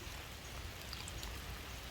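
Rain falls steadily at a park beside a local lake, a constant soft hiss of drops with faint patters scattered through it and no voices.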